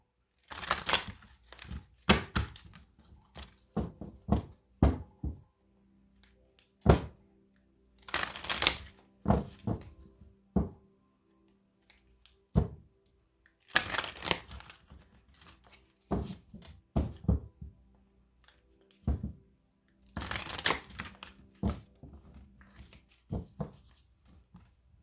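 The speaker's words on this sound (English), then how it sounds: "I'm just going to shuffle these a little bit." A tarot card deck being shuffled in short, crisp bursts of riffling and card slaps, separated by stretches of near silence, close and fairly clear.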